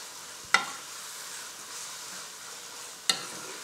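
Five or six finely chopped green chillies cook with a spinach base for palak chicken, giving a quiet even sizzle with two sharp utensil clacks against the pan spaced a few seconds apart.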